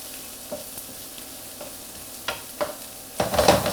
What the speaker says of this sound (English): It's already sizzling.